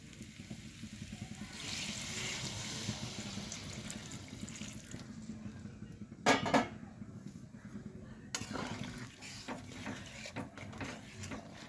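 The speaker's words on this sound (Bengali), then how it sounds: "এবার আমি আলুর মধ্যে দিয়ে দেবো গরম জল" Hot water is poured into potatoes in a pan for a Bengali pea ghugni, a steady splashing pour that runs for several seconds, then brief metallic clinks and quieter bubbling as it settles.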